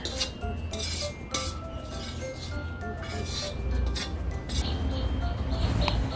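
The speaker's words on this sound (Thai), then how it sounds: "เทใส่หม้อเลย" Vegetables and ingredients for a Thai mixed-vegetable stew tipped into a cooking pot in a home kitchen, giving a continuous clatter and clink of metal and tumbling pieces, fairly close and steady throughout with no talk.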